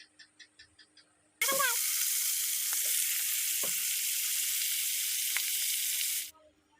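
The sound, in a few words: chital fish heads frying in hot soybean oil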